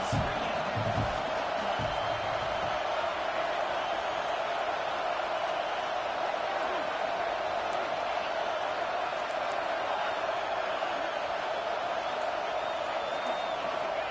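A Michigan football stadium crowd roars steadily behind the home defense on a big third down, a broad, distant wall of cheering that holds for the whole stretch, with a commentator faintly audible in places.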